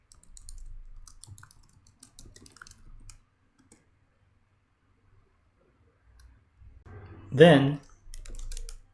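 Typing on a computer keyboard to enter an Angular CLI install command: scattered soft key clicks at moderate level, with a short spoken phrase and a louder burst near the end.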